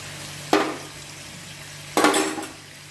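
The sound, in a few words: potato and cauliflower curry frying in pan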